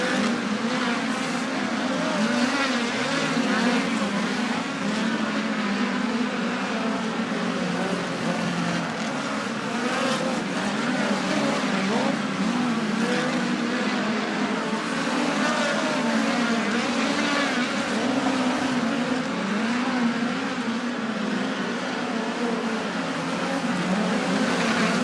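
Dirt-track race cars roar around Bakersfield Speedway during a hot lap session, a sustained, loud engine drone that rises and falls slightly as the pack circles, with faint voices underneath.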